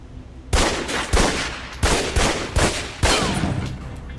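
Gunfire from a precision rifle in the video game Alpha Protocol: four or five loud, sharp single shots at irregular intervals, each with a short ringing tail, over a steady background hum and no talking.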